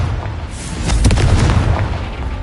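A Confringo spell explodes in Hogwarts Legacy on PS5 as a deep, rolling boom with a broad rumbling tail that lingers for a couple of seconds, with no talking.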